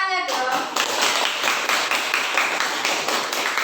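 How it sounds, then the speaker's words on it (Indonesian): A classroom of students claps for a classmate's answer during a practice-teaching science lesson, with a brief voice first and then a loud, rhythmic unison clapping of many small hands in quick regular beats. "Tepuk tangannya dong"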